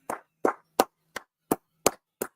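Seven sharp, distinct claps spaced evenly about a third of a second apart, close and loud against silence, sounding more like one person clapping than a crowd.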